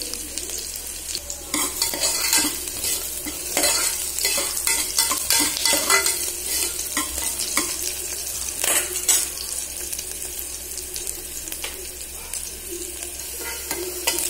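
Onions sauté in a pan for white pulao, a steady close sizzle with repeated scraping stirs of a utensil against the pan throughout, no talking.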